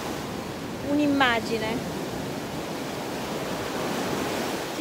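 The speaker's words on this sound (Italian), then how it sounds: "Ci sono delle belle onde" Strong ocean surf rolling onto a beach in Sri Lanka, a steady roaring wash of waves close to the shore, with a voice briefly speaking over it near the start.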